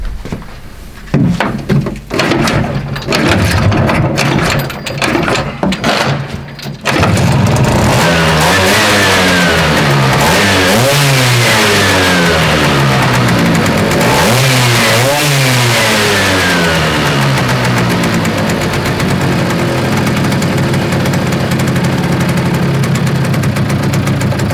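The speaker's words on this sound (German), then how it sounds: "Jetzt fahren wir mal mit umgebautem Vergaser und mit einem Venturi und mit meiner Bedüsung" A scooter fitted with a Malossi 210 kit and a rebuilt SI carburetor with venturi rides past loud and close, its two-stroke engine revving up and down through repeated accelerations after a rougher, choppy start.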